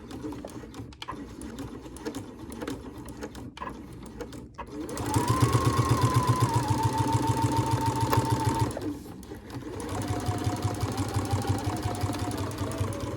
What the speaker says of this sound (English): So let's go ahead and sew around this now.